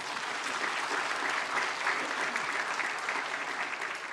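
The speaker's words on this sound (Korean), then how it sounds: "여기서 박수 한번 주시죠." Church congregation applauding during a teachers' dedication worship service, a steady dense patter of many hands clapping at a fairly even level throughout, with no talk over it.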